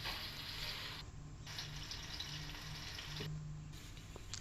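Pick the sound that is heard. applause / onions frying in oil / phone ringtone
onions frying in oil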